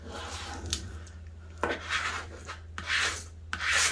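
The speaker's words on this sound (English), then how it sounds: "Then I'm going to take my squeegee" A squeegee rubs etching stencil pieces down onto glass in several short, scratchy strokes, each a close, dry rasp with brief pauses in between.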